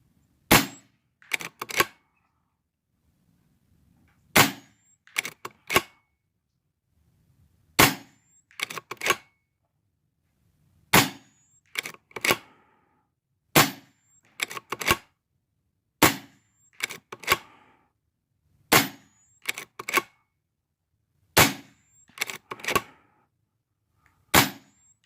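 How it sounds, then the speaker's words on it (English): An RTI Priest .25 caliber PCP air rifle fires rapid shots at a 100-yard outdoor range, sharp close cracks in evenly spaced pairs and small clusters with a faint distant report after each, separated by short quiet gaps. "9 shots. Rapid fire, 100 yards."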